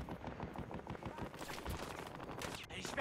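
Rapid gunfire in a multiplayer match of the video game Battlefield Hardline, dense bursts of shots rattling continuously for a few seconds against a busy battlefield background.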